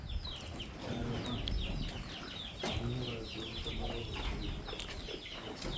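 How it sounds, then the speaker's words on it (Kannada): Chickens on a village farm cluck repeatedly at close range, their short, overlapping calls scattered through the whole stretch amid light background noise. "ಫಸ್ಟ್ ನಿಮಗೆ ಕೋಳಿ ತೋರ್ಸೋಣ ಅಂತ."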